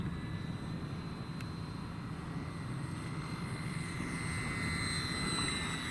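An Arrows Hobby F8F Bearcat RC model, 1100mm, on its stock electric motor runs at full power overhead, giving a steady whining drone with a faint high tone and no talk.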